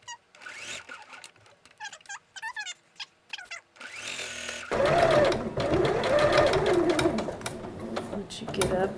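A sewing machine stitches a Christmas tree ornament, first in short bursts and then running steadily and close by, its mechanical whir and needle chatter clear and fairly loud.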